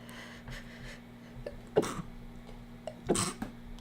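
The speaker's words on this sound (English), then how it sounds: "I have a sneeze." A single sharp sneeze bursts out, followed moments later by a second sneeze-like burst, with quiet breathing and a low hum in between.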